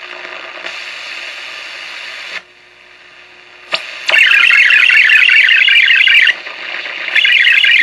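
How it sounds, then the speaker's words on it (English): A radio video test signal tuned in on a scrap-parts shortwave receiver in the upper 75-meter band: a loud buzzing, warbling electronic tone that switches on and off in blocks over steady static hiss. "that sound right there is some kind of a video testing in the upper portion of the 75-meter band"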